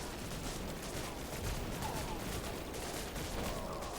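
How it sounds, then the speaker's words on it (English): Artillery fire in the strategy video game Buggos 2 on hard difficulty, a dense continuous rumble of distant overlapping blasts, steady and fairly faint throughout with no talk over it. "our artillery can blast them away"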